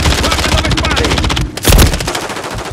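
Rapid automatic gunfire from Call of Duty Modern Warfare 3 on the Favela map, loud bursts of closely spaced shots with a brief pause before a heavy blast and more firing.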